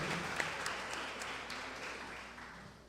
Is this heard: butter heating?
no